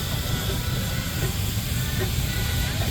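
Giant steam engine at a parade, a steady broadband hiss over heavy low rumble and mechanical chugging, continuous and fairly loud throughout, with faint voices in the background.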